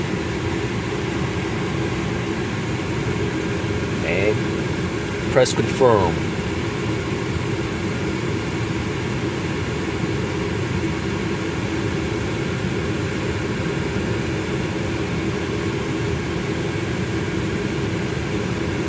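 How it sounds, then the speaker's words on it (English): A car's air conditioning fan runs loudly on high with the headlights on, a steady broadband whoosh filling the whole stretch while a person talks over it and a brief electronic beep sounds. "You may not be able to hear me because of the loud fan."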